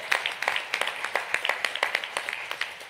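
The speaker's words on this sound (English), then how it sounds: "Let's give him a round of applause." An audience at a five-year celebration claps in a brisk, fairly close round of applause, individual hand claps distinct within the steady patter.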